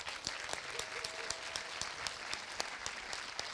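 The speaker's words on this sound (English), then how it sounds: "a big thank you and a big clap for you lot" An audience at a film world premiere claps steadily and continuously, a dense patter of many hands at moderate distance that stays even throughout with no voices over it.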